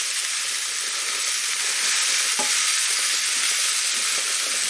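Rosemary sprigs are stirred in a pan with seared lamb chops, giving a loud, continuous sizzle. A single soft scrape from the stirring lands midway.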